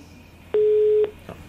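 A steady electronic telephone line tone on a radio call-in show holds for about half a second, loud and pure, with faint background hum around it.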